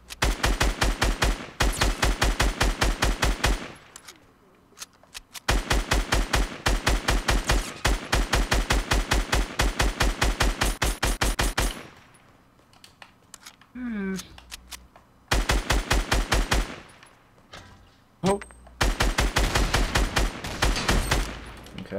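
Rapid gunfire rattles through a Fortnite Battle Royale match in long dense bursts, broken by brief pauses and a short quieter stretch, loud and close with game effects between volleys.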